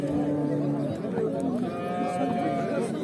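Cattle low repeatedly at a rural livestock market where cows are sold with their calves, long tonal moos rising over steady crowd chatter and background voices.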